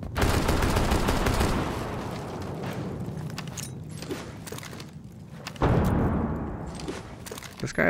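Dense shotgun fire in a competitive first-person shooter match, a steady barrage of booming blasts through most of the stretch, with a fresh loud burst near the end.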